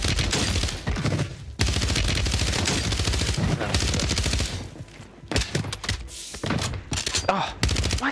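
Rapid automatic gunfire in Call of Duty Warzone on Rebirth Island, loud sustained bursts with brief pauses, a voice briefly audible among the shots.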